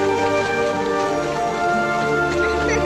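Rain falls steadily on a child in a film scene, a dense, even hiss of drops holding at one loud level for the whole stretch with no clear breaks.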